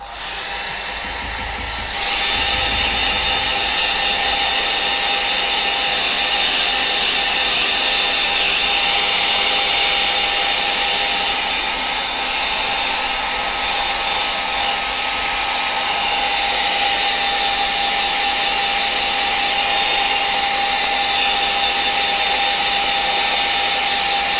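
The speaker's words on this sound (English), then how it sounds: "Right, I'll just dry that off." A hair dryer blowing on a watercolour seascape of a storm over Brightlingsea, switched on after a brief quiet start and then roaring loudly and steadily with a constant high whine, nearby and alone.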